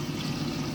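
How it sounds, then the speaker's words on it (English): Teriyaki glaze pours onto a steak on a griddle for bacon and steak smash burgers, a short steady liquid trickle with a soft sizzle underneath, close and fairly quiet. "we're gonna pour a little bit of that on there"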